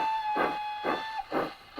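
A model steam train gives a steady high whistle tone with three rhythmic puffs of steam hiss, evenly spaced, close and fairly loud, no voices.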